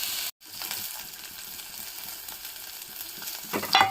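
Chopped onion and green chilies fry in oil in a pan for an onion-tomato curry, a steady close sizzle with light stirring scrapes after a brief cut at the start.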